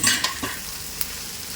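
Puri bhaji masala mixed and stirred in a pan, with a soft frying sizzle under a few quick spoon clinks and scrapes, close by.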